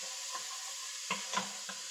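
Food stirred in a pan over medium heat while making chicken tikka masala, with a constant soft frying hiss and a few light spoon scrapes against the pan.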